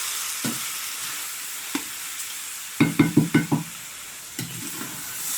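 Lamb meat sizzling in a pan over browned fried onions at an outdoor wood fire, a steady close hiss broken by a quick run of stirring clatters and a few scattered knocks, with no talking.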